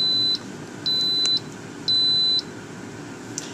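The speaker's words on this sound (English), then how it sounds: "Don't you just hate waiting for a timer to go off?" An Instant Pot timer beeps three times, each a steady high-pitched electronic tone lasting about half a second with short gaps between, clear and close over a quiet kitchen background.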